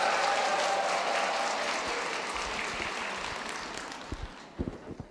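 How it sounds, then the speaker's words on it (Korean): Audience applause greets a Catholic priest at a parish volunteer training session, a steady sustained wash of clapping from a sizeable crowd that gradually thins out, with a few louder close claps near the end. "큰 박수로 맞이해 주세요"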